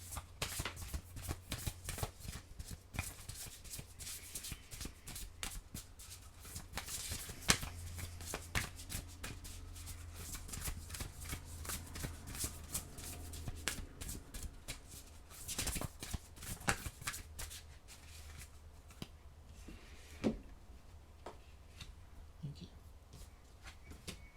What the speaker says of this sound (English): let me get your last oracle card here